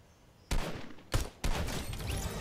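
Gunfire in the Fortnite video game: bursts of rapid shots starting abruptly after a quiet moment, running in two loud clusters with a brief gap between them, close and dense with no talking.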